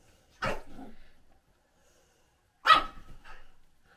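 Dogs playing on a bed give two short, close bursts of barking and snuffling, each followed by softer growly vocal sounds, separated by a quiet gap.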